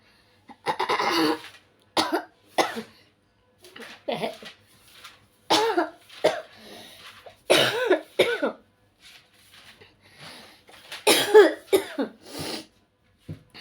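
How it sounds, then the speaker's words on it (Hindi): Someone coughs repeatedly and harshly in uneven bursts with short pauses between them, close up, with some throat clearing. "खांसी भी हो रही बहुत ज़्यादा गाइस"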